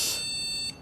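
A desktop PC beeps as it powers on, faulty with a 4 GB memory stick badly seated in slot three: one steady, piercing electronic tone held for most of a second, loud and close, with no voices.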